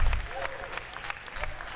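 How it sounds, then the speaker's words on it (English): Packed home crowd at a high school varsity volleyball game against Woodbridge, cheering and clapping in a brief burst of scattered applause under a commentator's voice. "the crowd here on hand is fired up. Packed house, as always, here at the farm"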